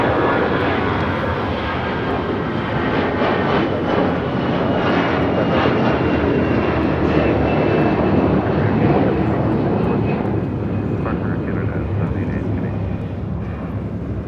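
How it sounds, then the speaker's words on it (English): An Air Canada Airbus A321 jet takes off from LAX with a loud, sustained roaring engine rumble, steady and broad throughout, under occasional voices. "This is Air Canada 788 taking off to Toronto on an A321."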